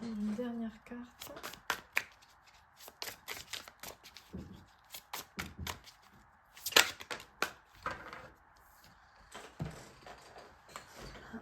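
Tarot cards being shuffled to draw one, a run of quick papery riffles and soft slaps close by, with brief gaps between bursts.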